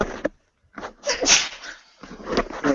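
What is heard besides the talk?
sneeze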